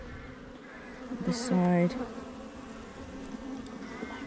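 Honeybees buzzing loudly around an open beehive during the first inspection of the year, a close swarm drone that swells into a louder burst midway, with a brief spoken phrase over it.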